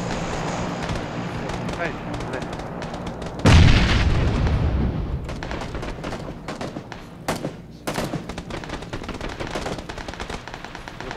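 In a video game, a grenade goes off with a loud boom, followed by bursts of machine-gun fire and scattered gunshots, with a player speaking briefly over the fighting.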